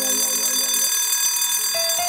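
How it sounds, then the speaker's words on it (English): A bright electronic alarm clock rings steadily and loudly up close, a sustained tonal beeping with a slight shift in pitch near the end and no voices. "My alarm clock rings at 6:30 in the morning."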